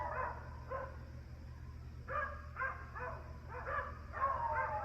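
Beagles barking in short bursts, some clustered in quick runs, at moderate distance over a low steady background hum.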